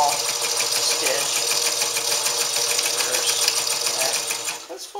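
A Stitchmatic sewing machine runs through heavy fabric on a long stitch, a fast, steady mechanical whir with rapid rhythmic clatter, close and loud, slowing and stopping just before the end.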